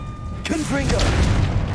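A Confringo spell explosion from the video game Hogwarts Legacy hits with a sudden, boomy burst and then rumbles on, partly under a voice calling out.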